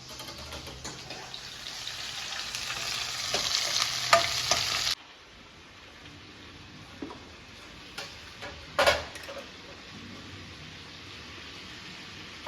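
Onions and green chilies hiss loudly in hot oil for about five seconds, then quieten to a soft sizzle. The pan is stirred with occasional clicks and scrapes while cooking a paneer butter masala base.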